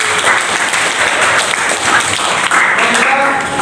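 A classroom group applauds together, a continuous, close burst of clapping lasting throughout, with voices mixed in beneath it.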